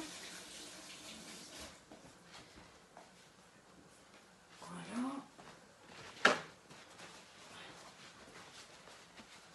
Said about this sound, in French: Je vais me rincer les mains.